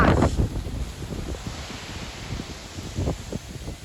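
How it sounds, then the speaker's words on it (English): Strong severe thunderstorm wind gusting near 60 mph on an evening with light rain, roaring and buffeting the microphone in repeated surges, loudest bursts near the start and again around three seconds. "That's probably 60-mile-an-hour wind gusts."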